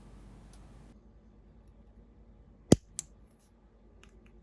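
Two sharp, dry clicks from a piezo igniter of a lighter pressed against an iPhone 13 Pro, a fraction of a second apart, crisp and close over a quiet room hush.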